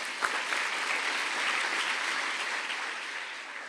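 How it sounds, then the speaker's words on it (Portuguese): A church congregation breaks into sustained applause during a sermon, steady, diffuse clapping from a large room heard at a distance that fades gently near the end. "Vamos aplaudir a Jesus."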